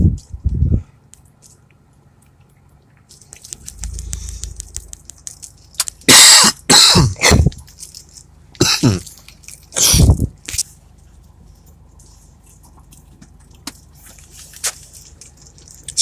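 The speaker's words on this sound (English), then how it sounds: "Sorry guys about the cough," A person coughing hard several times in quick bursts, loud and close, separated by quiet stretches with faint background noise and no speech.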